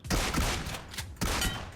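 Rapid gunfire in the mobile battle-royale game PUBG Mobile: two close, loud bursts of shots with a brief gap between them, sharp and punchy with no voices.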